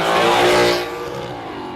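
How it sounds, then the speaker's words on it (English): Drag race car, a Torana, doing a big burnout at Warwick Dragway, a loud, high engine roar with screeching tyres that peaks and then eases into a lower sustained drone, close and without talk. "Michael Barradell, nice big burnout in the Tirana"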